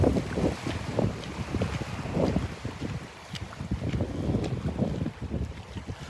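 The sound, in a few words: wind blowing on a beach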